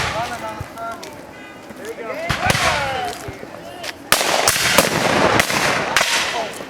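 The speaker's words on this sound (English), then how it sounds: "Lots of gunfire today, lots of gunfire." Scattered gunshots at a Civil War battle reenactment, cracking at varied distances, some sharp and close, others distant, with voices and crowd noise in between.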